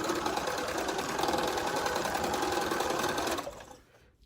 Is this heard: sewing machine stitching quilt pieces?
yes